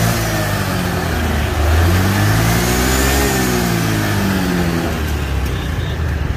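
A fuel-injected motorbike engine runs close by in a steady, even drone with a gentle rise and fall in pitch, heard alone without talk.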